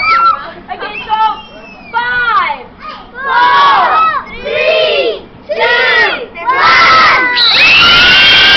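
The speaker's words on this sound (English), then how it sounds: "the one who screams the loudest gets 400 bucks." A group of people screaming at full volume in a loudness contest, repeated long shrill yells in successive bursts, close and very loud, ending in one sustained scream.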